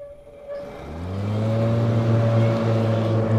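The blades of an EGO Z6 52-inch 56-volt electric zero-turn riding mower engage, a steady whir rising from near silence over about a second into a loud, sustained hum that holds close and constant.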